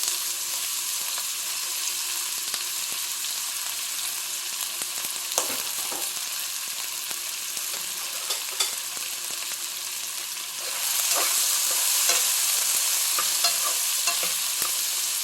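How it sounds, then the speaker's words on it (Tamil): Chopped onions sauté in a pan with whole spices for a chicken pepper fry, sizzling steadily nearby with light scraping from stirring, and the sizzle grows louder toward the end. "வெங்காயம் நல்லா வதங்கட்டும்"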